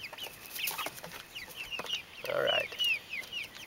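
Farm chickens cluck and chirp in short bursts from close by, with a louder squawk about two-thirds of the way through and a brief spoken remark near the end.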